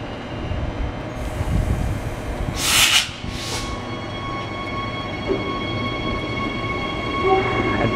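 A train pulling away from Park Road Station in Brisbane, its rumble and rail noise filling the clip with a brief brighter burst midway, continuous and moderately close with no talk.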